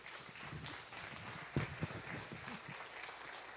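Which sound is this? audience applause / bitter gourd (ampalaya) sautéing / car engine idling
audience applause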